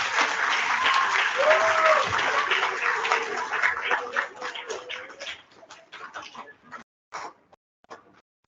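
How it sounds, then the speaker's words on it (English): Audience applause for first-grade award winners at a school awards assembly, a dense burst of clapping that thins into scattered claps before dying out, with faint voices mixed in. "A big round of applause for our Related Arts Award winners."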